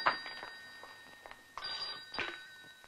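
A household telephone in a Telugu film scene rings in short, fairly quiet bell bursts, with two clearer rings toward the end and no one speaking.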